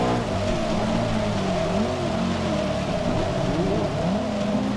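An Audi RS6 Avant's engine accelerates hard in Forza Motorsport 6, a loud, continuous high-revving roar with rising pitch sweeps as the gears climb, steady and close with no voices.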